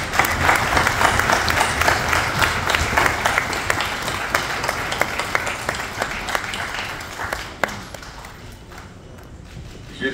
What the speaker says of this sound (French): Je demande à ces sénateurs de se mettre debout et de lever les bras pour recevoir les acclamations.